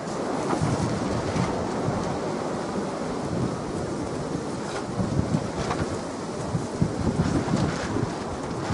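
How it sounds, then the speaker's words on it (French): Steady, broadband wind roars and buffets continuously at a December camp near Nancy, dense and noisy, with no voices. "il y a pas mal de vent"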